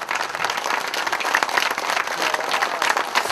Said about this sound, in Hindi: 2 मिनट खड़े होकर के तालियों से स्वागत करो।